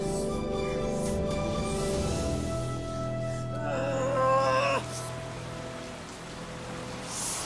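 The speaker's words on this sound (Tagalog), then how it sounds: "Ang lakas ng ulan." Heavy rain pours steadily as a dense, even hiss beneath sustained tonal music, holding a constant moderate level throughout.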